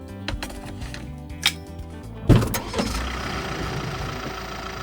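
A car engine idles on a road beside a Swedish forest, a steady low rumble with a sharp knock or bump partway through and faint background noise after.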